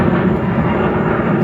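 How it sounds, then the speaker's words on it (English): A Delta airliner taking off at an airport roars as a steady, loud, broadband rumble overhead, with no voices. "I would say every minute you have a plane that's taking off over here."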